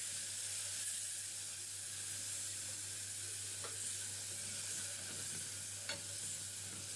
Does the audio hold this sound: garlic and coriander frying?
yes